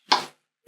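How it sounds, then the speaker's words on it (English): A gas stove burner lit in a home kitchen gives two short bursts: a sharp igniting whoosh near the start and another just before the end, with silence between. "Light the gas."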